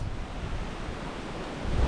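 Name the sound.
strong river current, flowing water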